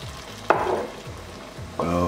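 Water poured into ground beef frying in a pan, bringing sharp bursts of hissing sizzle over a steady background fry, close by, with two distinct surges a little over a second apart.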